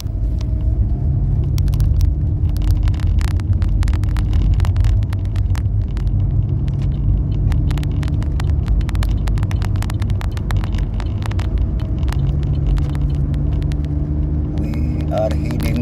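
A car cruising along the Churchill Roosevelt Highway produces a constant loud low road rumble and engine drone, with frequent small clicks and knocks from the cabin and voices talking over the noise.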